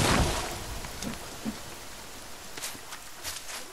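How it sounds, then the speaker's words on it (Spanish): Rain falling in a forest in The Forest, a steady patter of drops on surfaces with a few louder individual hits, heard alone without talk. "Ahora como que se largó a llover."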